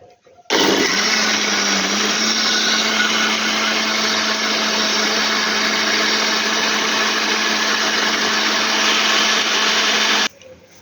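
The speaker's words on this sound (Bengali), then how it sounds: "মিক্সার চালাতে হবে তাই তো" A kitchen mixer grinder whirs loudly and steadily for about ten seconds, blending amla, turmeric, black pepper and water into juice, starting abruptly and cutting off sharply at the end.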